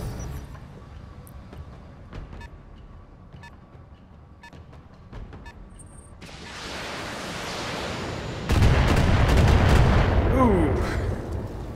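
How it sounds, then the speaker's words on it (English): Missile impacts in the BattleTech video game, a steady rumble of blasts that swells louder and denser partway through, with a burst of crackling explosions near the end. "Pretty good hit with the missiles."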